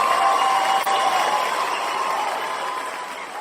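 Studio applause from a small group on a Korean news-talk podcast, a steady patter of clapping that slowly fades over a few seconds.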